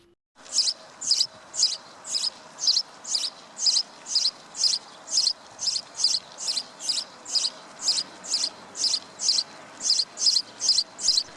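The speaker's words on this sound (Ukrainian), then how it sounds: "Так, правильно, це горобчик." A house sparrow chirps in a steady repeating series, short bright cheeps roughly twice a second, clear and alone against a quiet background.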